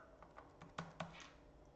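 Several soft, separate key clicks from a computer keyboard tap out an uneven rhythm, faint and close, with no talking.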